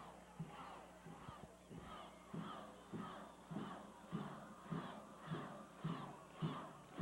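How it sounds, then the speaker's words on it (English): Madison Central High School's cheering section chants "go, go, go" at a 1984 football game against Corbin, rhythmic shouted bursts repeating about every half second, distant and crowd-like in a stadium. "The go, go, go that you hear in the background from the cheering section of Madison Central"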